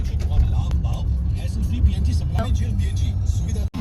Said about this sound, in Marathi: बघा गाडी पेट्रोल भरून निघालो आम्ही